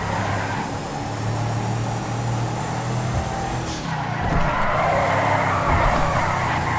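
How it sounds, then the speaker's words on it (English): Standard BJ car engine in a GTA video game, a steady revving drone with tire skids, heard alone without talk. "This is how the standard BJ sounds."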